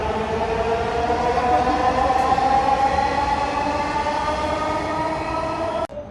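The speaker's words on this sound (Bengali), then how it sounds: "এই যে মেট্রো রেল" A metro train passes close by near Agargaon, Dhaka, a steady loud roar with droning tones and rail hum. It cuts off abruptly near the end.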